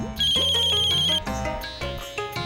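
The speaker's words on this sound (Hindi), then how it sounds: "ये किसका फोन है?" A mobile phone ringtone plays loud and close, a bright repeating electronic melody with a sustained high tone that shifts to a busier musical phrase partway through, with no talk over it.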